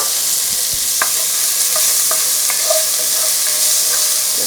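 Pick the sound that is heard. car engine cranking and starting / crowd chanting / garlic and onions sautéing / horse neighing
garlic and onions sautéing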